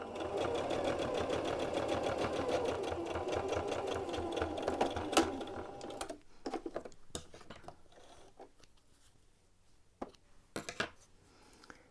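A sewing machine zigzag-stitches a T-shirt sleeve, running in a fast steady whir for about six seconds, then stopping, followed by scattered clicks and clatters of handling nearby.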